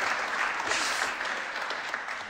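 An audience at a live Christmas lecture by an audio engineering society applauds after a game of Pong, with dense, continuous clapping filling the hall throughout the short burst.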